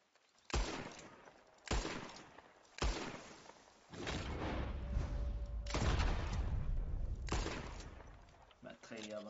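Gunfire in Red Dead Redemption 2: three sharp, loud shots spaced about a second apart, then a sustained rumbling barrage of rapid overlapping blasts and thuds, with a final burst trailing off.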